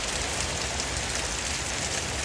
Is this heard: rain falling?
yes